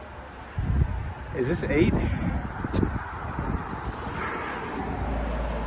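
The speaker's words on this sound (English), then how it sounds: "This wind is brutal." A strong headwind on a bicycle tour across Wyoming roars and buffets the microphone in a low, continuous rumble, while someone speaks briefly over it.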